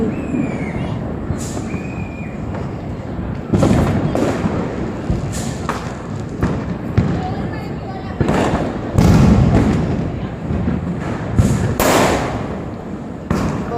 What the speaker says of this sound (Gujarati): જો કેવી પૂતળી બોમ્બ ફોડે છે